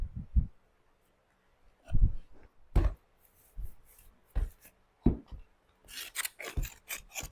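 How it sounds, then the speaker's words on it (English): Old paint being scraped off a thrifted home decor piece: a series of short, raspy scrapes and chips in uneven bursts, close and fairly loud, with quiet gaps between strokes and no talking. "So just scrape off the big old pieces from it"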